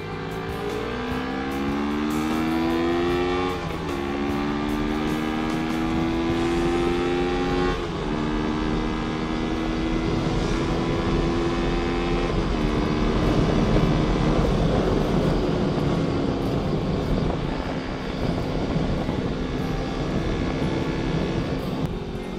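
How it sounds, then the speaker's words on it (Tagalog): A Kawasaki NK400 motorcycle fitted with a Yoshimura full exhaust runs steadily, its engine note rising and falling through several revs over a continuous, close, loud rumble with no talking. "kamustahin naman natin yung tunog ng aking exhaust."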